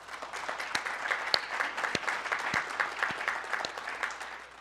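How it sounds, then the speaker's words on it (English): Audience at a CureDuchenne 20th anniversary futures event applauds the pharmaceutical and biotech sponsors, a steady, moderately loud round of clapping from a seated crowd with a few sharper individual claps standing out, no talking. "Please, a big round of applause for them."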